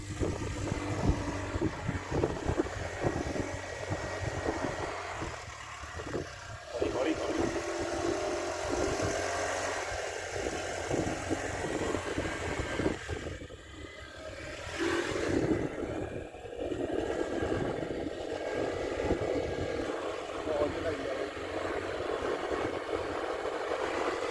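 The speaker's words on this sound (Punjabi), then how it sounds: "ਸਪੀਡ ਬੋਟਾਂ ਚੱਲਦੀਆਂ ਨੇ ਦੇਖੋ ਸਮੁੰਦਰ ਦੇ ਵਿੱਚ" Speedboats run on the sea off Nusa Penida, Bali, as a continuous engine drone that swells and eases at moderate distance, with some wind noise and no speech.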